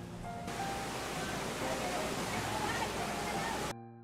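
Floodwater rushing during Typhoon Carina as it keeps rising: a steady, dense roar of churning water fills the scene at close range, loud and unbroken, then cuts off abruptly near the end.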